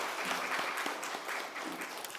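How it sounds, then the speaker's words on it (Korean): Church congregation applauding during a Sunday worship service, a steady dense clapping that fills the whole stretch at even loudness with no voices over it. "하나님 앞에 크게 영광의 박수를 돌리겠습니다."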